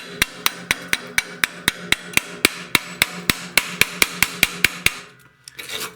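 A hammer chipping slag off stick welds made with a YesWelder Firstess CT2050 machine, about twenty sharp metallic taps in a steady quick rhythm, loud and close, then stopping.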